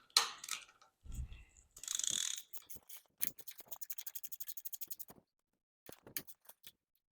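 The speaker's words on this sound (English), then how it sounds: "8 millimeter socket, and I'm just removing the levers" A socket ratchet, 8 millimetre socket fitted, loosens the lever bolts on a Royal Enfield motorcycle handlebar, with rapid close clicking bursts, brief pauses and handling clatter between runs.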